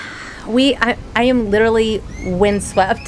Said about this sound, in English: That's the sound of birds There's a bird out there.